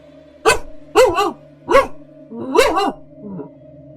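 A dog barks four or five times in uneven bursts, close and loud, the last bark softer and shorter.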